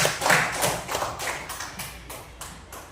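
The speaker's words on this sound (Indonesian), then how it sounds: "Tepuk tangan buat Hidayah." A classroom group gives a short round of applause during a lesson, with quick, fairly even claps at moderate to soft volume fading slightly over a few seconds.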